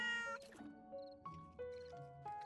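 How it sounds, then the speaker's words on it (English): A calico cat meows several times, clear and close, its rising and falling tonal calls coming one after another with no talk over them. "Hey, Kitty does not want pets"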